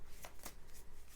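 Tarot cards are shuffled quietly close by, giving a few soft, short riffling bursts separated by brief gaps, with no talking.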